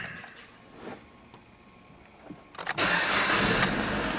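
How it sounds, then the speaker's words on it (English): A 2010 Jeep Patriot with a CVT transmission fault cranks briefly with a few stuttering bursts, then its engine catches and settles into a loud, steady idle, close by, after a quiet lead-in of faint clicks. "I started this vehicle up"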